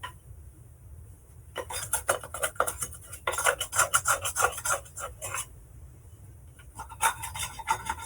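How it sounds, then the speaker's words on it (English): A utensil scrapes cinnamon roll dough from the bottom and sides of a mixing bowl, close rhythmic rasping strokes in uneven bursts with brief pauses between them, and no talk. "I'm going to scrape off the sides as well"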